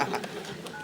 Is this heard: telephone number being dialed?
yes